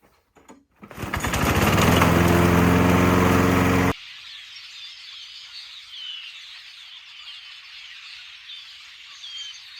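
A lawn mower engine sputters to life, roars loud and steady for a couple of seconds while running its fuel dry, then cuts out abruptly, leaving faint outdoor ambience with birdsong.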